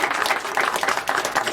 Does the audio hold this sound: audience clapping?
yes